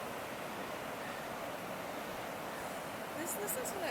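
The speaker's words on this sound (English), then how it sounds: "Listen to that water." River water flows near Stone Face Rock in Lee County, Virginia, a steady broadband rushing wash, close and continuous, with a faint wind-like hiss and brief high chirps near the end.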